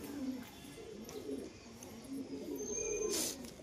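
Caged pigeons from the Beldanga Hat market coo softly in a steady, repeated rhythm, moderately close and fairly quiet, with no talking.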